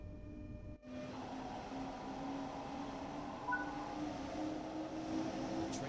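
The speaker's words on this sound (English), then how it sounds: "As the train accelerates" A train in Train Sim World 5 pulls away from a training centre, a low steady motor hum with faint rising whine and a brief dip near the start, fairly quiet and continuous.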